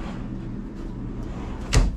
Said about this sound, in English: when you're opening and closing those doors, you can just feel of how solid and sturdy and well-engineered that is